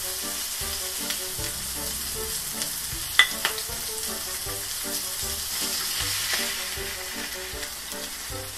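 A burger patty fries in a pan, a steady close sizzle with crackling pops and a few sharper spatters, no voices over it.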